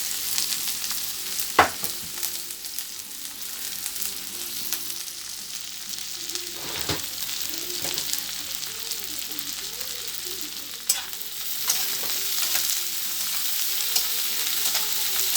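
Chopped garlic, onion and green chilies fry with cumin in hot oil. A loud, constant sizzle runs throughout, with occasional sharp scrapes and clacks from stirring nearby.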